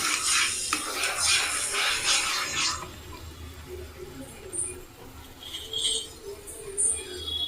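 A spoon stirring apple halwa in a pot, with dense scraping and scuffing against the metal that then settles into quieter, occasional clinks and soft bubbling.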